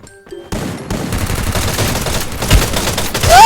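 Rapid video game gunfire bursts loudly after a brief quiet start, a dense run of shots with a rising tone sweeping in near the end.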